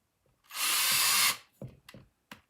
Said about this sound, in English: I'm just going to follow it around